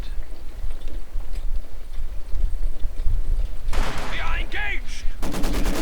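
Maxim machine gun crews firing in Company of Heroes 2, a 1v1 match, with bursts of rapid automatic fire and other gunfire crackling over steady battlefield noise, loud and close near the end.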